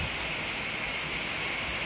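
Heavy rain pours down beside a newly filled backyard pond, a dense, steady hiss of drops close by, loud and continuous with no pauses.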